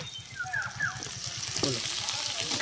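Potato, beans and carrot frying with chopped onion in a pan give a steady soft sizzle, with a few clinks and scrapes of stirring on top, and someone talks over it.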